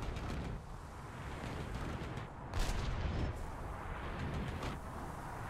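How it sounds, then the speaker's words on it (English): Rapid bursts of anti-aircraft gunfire in the video game War Thunder pop repeatedly over a dense rumbling background, with a louder cluster of shots midway. "I just want to see our anti-air guns go to work"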